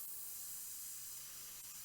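A steady, even hiss of air spraying from an airbrush nozzle, continuous and close, with no pauses.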